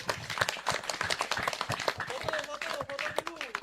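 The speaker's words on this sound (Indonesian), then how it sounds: "Tepuk tangan." A crowd at an outdoor community gathering in Papua claps hands in a dense, uneven patter of close, sharp slaps throughout, with voices calling out beneath the clapping.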